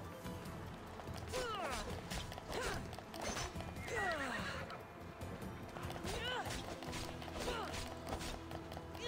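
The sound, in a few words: horse galloping and neighing in video game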